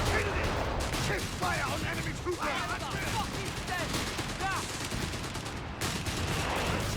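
Flak gunfire in the Company of Heroes 3 video game during a 2v2 match: a dense, continuous rattle of rapid shots and distant bursts that runs throughout, with faint voice chatter underneath.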